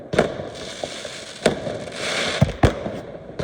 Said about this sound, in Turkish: şimdiye kadar en yakın gördüğümüz hava fişek